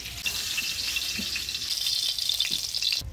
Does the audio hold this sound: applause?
no